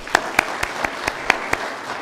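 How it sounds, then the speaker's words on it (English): A few scattered handclaps for the Lebanon Technology and Career Center Culinary Arts students at a community grant awards celebration: seven or so sharp, separate claps spread over two seconds, light and uneven rather than a full ovation. "We'd like to give them a round of applause."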